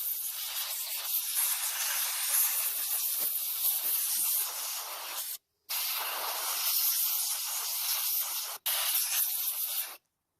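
Compressed air blasted into the dirty, hairy internals of a Stihl leaf blower, a loud close hiss in two long sustained bursts with short breaks between them, no voices.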